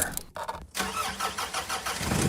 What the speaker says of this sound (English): and you start your car.